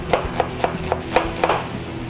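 A knife chops onion on a board with about seven crisp, evenly spaced strikes, loud and close, with no voice over them.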